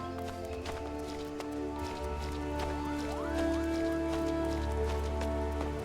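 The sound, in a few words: rain in Final Fantasy XIV video game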